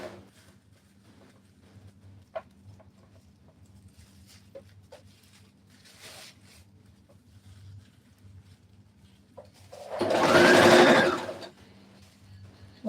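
A sewing machine stitches bridal skirt fabric. Soft ticks and rustles are heard in a quiet room, then a short, loud burst of machine whirring comes near the end.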